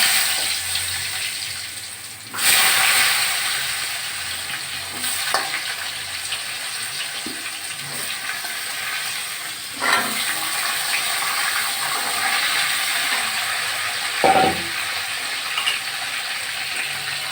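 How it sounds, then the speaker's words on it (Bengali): Potato pieces rubbed with salt and turmeric fry in hot oil for a Bengali pangas fish curry, a steady crackling hiss throughout with a few sharp bursts and stirring clatters, no voices. "আমি আলুগুলো লাল লাল করে ভেজে নেব"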